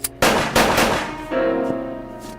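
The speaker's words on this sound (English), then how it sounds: "I fired right at you." .45 caliber automatic pistol shots in an old radio drama, two loud sharp cracks in quick succession with a ringing tail, then a lower resonant echo fading out.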